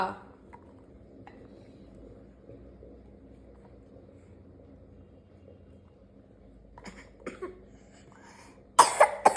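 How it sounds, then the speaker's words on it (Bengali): A child coughs in a few sharp, close bursts near the end after drinking tea, following a quiet stretch with faint household sounds and some low talk. "দেখেছিস চা খাচ্ছিস, ওই জন্য কাশি হয়েছে"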